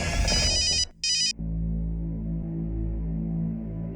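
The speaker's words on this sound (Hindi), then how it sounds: "प्रतिभा, ये तीसरी बार फोन काट रही हो तुम।" A telephone rings with two bursts of a bright electronic ringtone, followed by a low steady hum.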